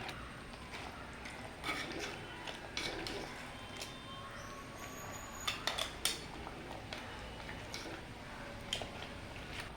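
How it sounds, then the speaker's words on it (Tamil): A spoon stirring crab masala in a cooking pan, with soft scraping and occasional metallic taps against the pan, faint and irregular over a low steady background. "கொஞ்சமாக அதை நல்லா கிண்டி விடுங்க"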